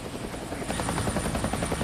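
A helicopter flies close over steep logging terrain in a forest, its rotor chop and engine whine a loud, steady, continuous roar.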